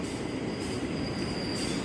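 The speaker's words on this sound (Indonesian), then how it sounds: "komuter lain tujuan stasiun Kampung Bandan via Manggarai yang masuk secara ngebut" A commuter train bound for Kampung Bandan via Manggarai enters Jatinegara station at speed, a loud continuous rush of rolling wheels with a thin high squeal and no talk.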